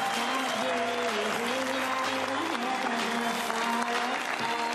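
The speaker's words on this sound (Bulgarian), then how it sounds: "Аплодисменти за Жени." Sustained applause from a TV studio audience on Big Brother fills the space, steady and dense throughout, with faint background music underneath.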